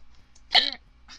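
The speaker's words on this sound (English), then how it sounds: "I have hiccups." A single sharp, close hiccup from a girl, a short voiced gulp with a breathy burst, standing out against a quiet background with faint sounds before and after.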